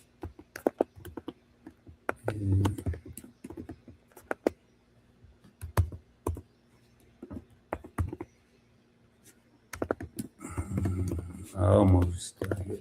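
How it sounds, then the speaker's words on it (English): Computer keyboard typing comes in quick bursts of sharp, light clicks with short pauses between runs, while someone talks over parts of it and near the end. "I feel like I'm typing a paragraph"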